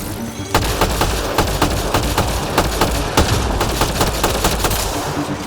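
Rapid bursts of assault rifle fire in a Mass Effect Andromeda firefight on the planet Eos, loud and close, with dense repeated shots and heavy battle noise throughout.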